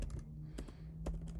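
Computer keyboard keys tapped while entering a password to connect to Linux lab computers, a few quick clustered clicks separated by short pauses over a low steady hum, close and fairly quiet.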